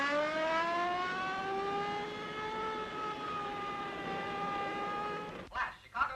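A police car siren in an old movie wails steadily with a slowly rising tone, moderately loud and continuous for about five seconds before cutting off abruptly.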